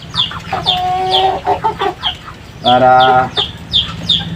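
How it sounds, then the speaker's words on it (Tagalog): Three-month-old Barred Plymouth Rock and Rhode Island Red chickens in a backyard cluck and chatter close by, with repeated short calls and a couple of longer drawn-out squawks, and a brief voice heard faintly underneath. "Meron ako ditong 3 months old na BPR at saka Rhode Island Red"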